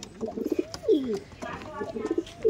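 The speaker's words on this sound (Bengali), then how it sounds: "এই দেখুন পায়রা দেখুন, মানে খুবই সুন্দর পায়রা এই পায়রাগুলো" Giribaj pigeons coo softly at a loft, with repeated rolling calls close by and a faint voice in the background.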